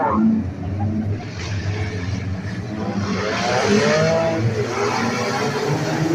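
Enduro race cars roar off at the start of a 30-lap feature at turn 4 of Beckley Motor Speedway, a dense, sustained engine drone from a pack of cars with a commentator talking over it throughout.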